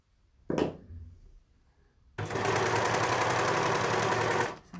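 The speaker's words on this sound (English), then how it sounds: "Doing my rolled hem, just imagine this is the bottom of the skirt" An overlocker stitches a rolled hem along the bottom edge of a skirt, a loud, steady high-speed mechanical whir running continuously for over two seconds after a brief click and pause.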